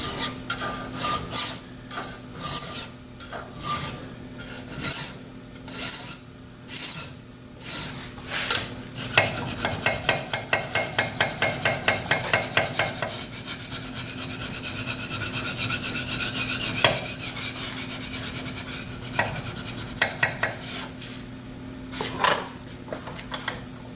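A fine file rasps against a metal drill gauge in rhythmic strokes, slow and spaced at first, then quicker and tighter, close and clear with no talk.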